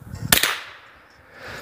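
A single sharp gunshot cracks once, fairly distant and muffled, with a brief echo trailing off outdoors.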